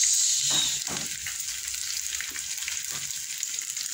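Onions sizzling in hot oil in a pan while cooking adobong sitaw, a bright continuous frying hiss, loudest at the start, with a few soft stirring knocks.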